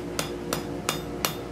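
A hammer strikes hot steel on the anvil as a double bevel leaf scroll is forged, four sharp, ringing blows spaced evenly about a third of a second apart, close and clear over a steady low shop hum.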